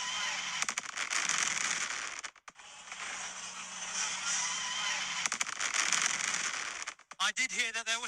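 Fireworks display at Alton Towers theme park during a November night show, a continuous dense crackling and popping barrage with a brief lull, heard from the crowd with some voices nearby.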